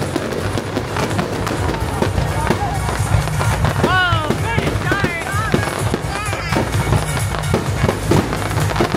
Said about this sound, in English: we are waiting for fireworks